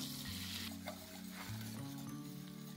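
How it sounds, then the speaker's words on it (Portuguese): Garlic frying in a pan for a fresh-mushroom lasagna, a steady continuous sizzle with crackling hiss throughout, close and loud, with no talking. "Vamos deixar dar uma douradinha nesse alho."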